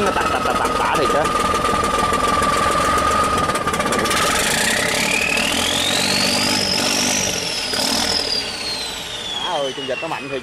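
A racing boat engine on the sea roars loudly and continuously, its pitch whining upward as it revs, then easing slightly near the end.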